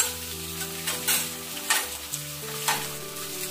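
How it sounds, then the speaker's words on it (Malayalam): Garlic and ginger paste sautéing in hot oil with curry leaves, a steady close sizzle broken by a few louder scraping stirs of the spoon against the pan. "ഇത് തന്നിട്ട് നല്ലതുപോലെ നമുക്ക് എണ്ണയ്ക്കകത്ത് വഴറ്റിയെടുക്കാം"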